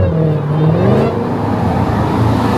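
A purple widebody Dodge Challenger Hellcat drives past, its engine a low rumbling drone that holds steady and close throughout, with no talking over it.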